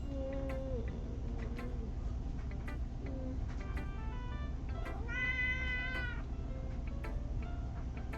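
A cat meows repeatedly, several drawn-out cries spaced through the clip, with faint ticking clicks and a low background hum.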